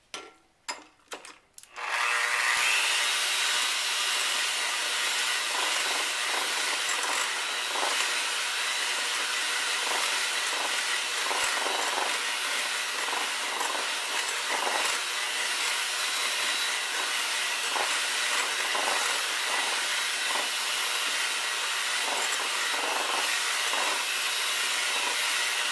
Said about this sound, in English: now I'm going to gradually add in the sugar and continue to beat until the mixture is thick